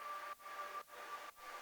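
A steady wash of broadband ambient noise with a faint tonal hum, ducking rhythmically three times in a pumping pattern, alone with no talk.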